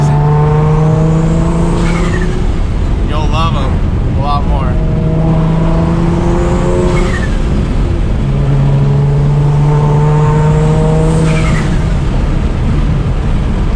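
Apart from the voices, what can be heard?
600+ hp turbo Nissan 350Z driving through canyon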